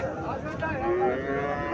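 A Sahiwal bull calf moos at a cattle sale in Cumilla, Bangladesh, giving one sustained, close, loud call, with faint voices in the background.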